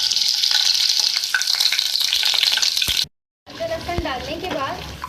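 Garlic paste frying in a pan for egg korma, a loud, dense sizzle that cuts off abruptly into a brief silence, then returns quieter with someone talking over it.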